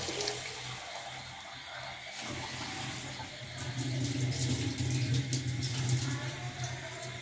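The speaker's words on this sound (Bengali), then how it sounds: "যেহেতু আমরা 1 কেজি চালের খিচুড়ি রান্না করছি তাই 2 লিটার পানি দেওয়া হচ্ছে।" Two liters of water pour in a continuous stream into a cooking pot for khichuri made with one kilogram of rice. The rushing flow is close and grows fuller as the pot fills.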